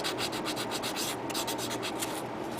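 Steady rhythmic rubbing of sandpaper on a small plastic part from a Yamato mini model kit, close and continuous with regular back-and-forth strokes and no voices.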